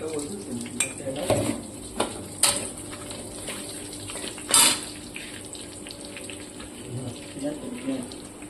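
Whole cardamom pods, a cinnamon piece and a bay leaf fry in hot oil with a little cumin, crackling and sizzling softly while a spoon or utensil clatters sharply against the pan several times.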